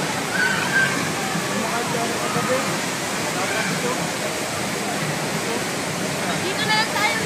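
Majayjay Falls in Laguna rushes and roars as a steady, dense wash of falling water close by, with people talking over it.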